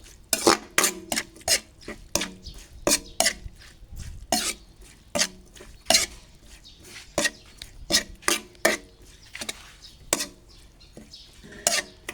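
Repeated sharp clinks and scrapes of a utensil against a bowl, coming in quick irregular bursts as beef larb with lime is mixed by hand, close and fairly loud.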